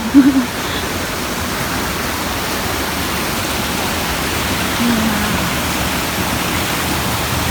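A steady, loud roar of a waterfall beside a stream in Chiang Mai, Thailand, fills the whole stretch, close by and unbroken, with no voices.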